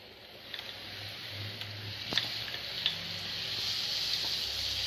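Ground tomato paste sizzles steadily in a pan of frying brinjal masala, a continuous hiss that slowly grows louder, with a few faint clicks and taps.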